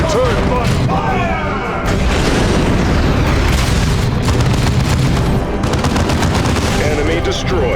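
Dense, continuous battle gunfire in Warhammer 40K Dawn of War 2 Chaos Rising, with rapid machine-gun bursts, heavy booms and explosions layered loudly together, and shouted voices mixed in.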